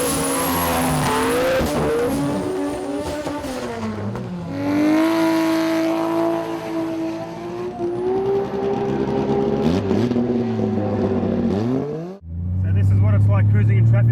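A 1600-horsepower Nissan R32 Skyline GT-R cruises in traffic, its engine droning steadily and rising and falling in pitch, close and loud throughout, with a deep low rumble surging near the end.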